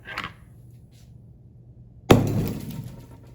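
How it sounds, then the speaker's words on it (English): A small tap, a pause, then one sharp hammer blow on liquid-nitrogen-frozen jelly candy with a bright glassy shatter that rings and crackles briefly before fading. "they will shatter with just a single shot of a hammer."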